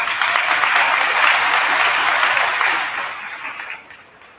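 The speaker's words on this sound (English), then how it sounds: "let's give our amazing students a round of applause" Enthusiastic applause from students' families filling the room at an elementary school fifth-grade promotion ceremony, dense and even, then tapering off over the final second.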